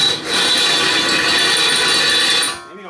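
An electric drill bores a hole into a metal tooth plate, a loud continuous grinding whir with a rattling edge that holds steady for over two seconds, then winds down and stops.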